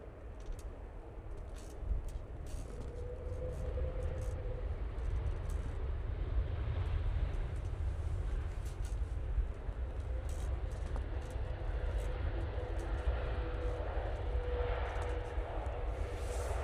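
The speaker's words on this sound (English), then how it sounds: "this is VS78 coming in from Bridgetown using the Virgin Atlantic A330." Virgin Atlantic Airbus A330 arriving from Bridgetown at Manchester Airport, a steady distant jet roar that swells slightly, heard from outdoors amid wind and faint ambient noise.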